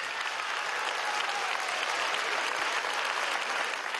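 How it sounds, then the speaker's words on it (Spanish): Steady, dense applause from a large audience at a military academy ceremony honoring the minister of women, sustained and even without a break. "Un aplauso a nuestra ministra de la Mujer."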